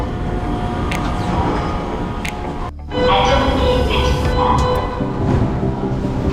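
Inside a moving subway train in Busan, a loud, continuous rumble and rattle of the carriage fills the space, with a brief dip as it passes through a change in the track or tunnel.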